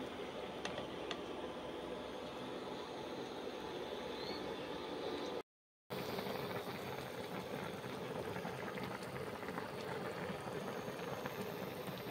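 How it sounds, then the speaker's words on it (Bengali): Fish and gourd-leaf curry simmering in a pot, a steady soft bubbling hiss with faint ticking, quiet and continuous with no talking. "এরপর সেদ্ধ হতে সময় দিচ্ছি তরকারি"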